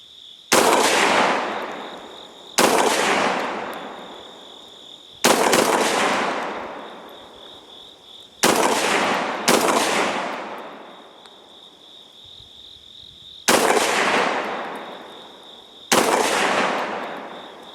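A Gforce GF25 shotgun fed from a 20-round drum fires seven loud, sharp shots at uneven intervals of one to four seconds. Each blast rings out and fades, with a faint steady insect-like whine in the background.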